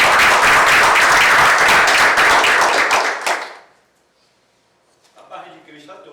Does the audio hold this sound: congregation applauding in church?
yes